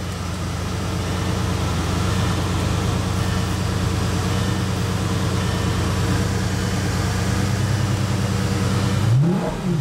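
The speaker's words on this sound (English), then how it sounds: "That engine is awesome. That is a V10 5-liter." A 2008 Lamborghini Gallardo Spyder's 5-liter V10 idles loudly and close by with a steady, smooth rumble, then a brief rising rev near the end.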